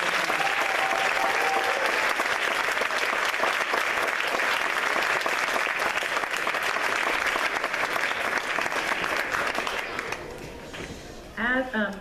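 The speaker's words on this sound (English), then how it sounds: "let's give everyone and all the performers a round of applause" Audience applauding loudly and steadily after a middle school concert at The Masters School, the clapping fading near the end as a voice begins to speak.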